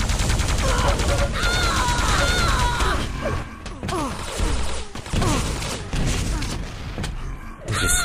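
Machine gun fire in a competitive arena shooter match, rapid bursts of shots and mechanical clatter amid other game effects, with a commentator talking over the action.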